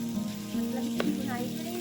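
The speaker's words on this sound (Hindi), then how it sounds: "चिकन को ऑयल में हम फ्राई करेंगे" Chicken fries in oil in a kadai with a steady, moderate sizzle heard up close. There is one brief clink partway through and no clear voice over it.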